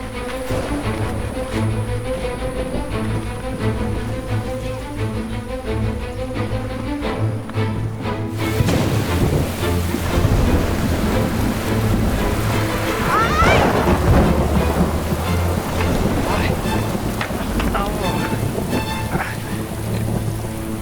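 A thunderstorm with rain gives a steady, dense wash of rainfall under a low, rolling rumble that swells louder partway through, with other sounds mixed faintly beneath.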